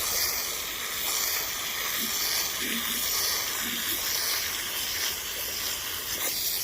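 A wool area rug being flushed of dog urine gets rinsed with a water spray, a steady, close, broad hiss that runs unbroken throughout.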